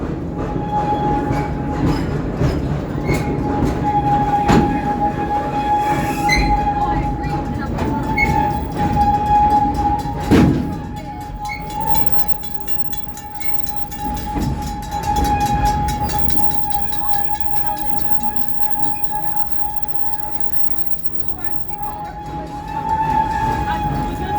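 The Serengeti Express train at Busch Gardens Tampa rolls along steadily with rumbling wheels, clicking rails and a sustained whistle-like tone, a horn blast midway, heard from on board.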